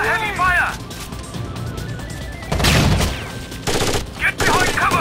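Heavy automatic gunfire in the video game Rainbow Six Vegas, loud rapid bursts and crashing impacts close by, with shouted voices mixed in.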